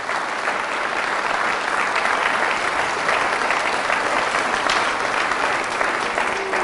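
Loud, sustained applause from a church congregation during a healing service, a dense wash of clapping hands that holds steady throughout without pause.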